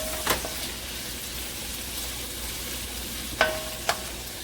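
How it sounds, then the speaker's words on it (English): Bean sprouts sizzle and fry in a pan for chicken fried rice, a steady hiss close by. A few sharp clinks and scrapes from a utensil stirring against the pan cut through it. "And now I'm going to throw in my bean sprouts."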